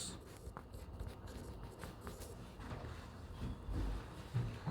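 Writing on a board during a physics class on work and energy, faint scratchy marker or chalk strokes in short bursts, close and quiet with no talk.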